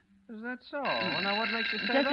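A telephone bell rings steadily and loudly in a vintage radio drama, the continuous trilling ring starting under a man's speech and persisting as he keeps talking.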